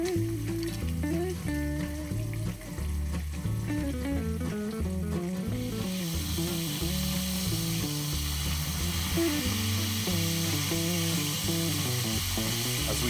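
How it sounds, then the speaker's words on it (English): Scallopini fry in a pan with a continuous, close sizzle and crackle, steady throughout with bursts of spattering and a brighter hiss in the second half, and no voice over it. "I'll let the scallopini cook until they're brown on one side"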